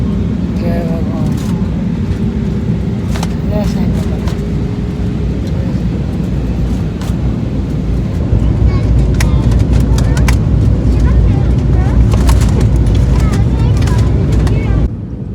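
Cabin of a passenger airplane on final landing approach, wheels about to touch the runway: a loud, steady engine and airflow roar fills the whole stretch, with faint voices murmuring beneath it.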